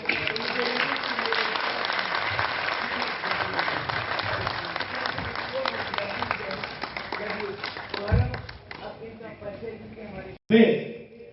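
A theatre audience applauds after a stage play at a Jammu show, steady dense clapping filling the space for about ten seconds before it thins and a voice briefly cuts in near the end.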